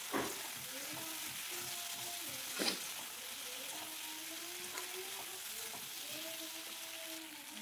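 Slit green chillies, flat beans and tomato frying with pomfret in a pan, a steady moderate sizzle running throughout with a brief clatter midway, no talk.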